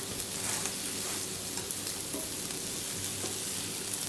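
Onions frying in a pan on an electric hob, a close, continuous crackling sizzle with light stirring, steady and even from start to finish.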